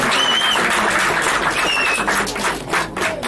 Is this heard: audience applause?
yes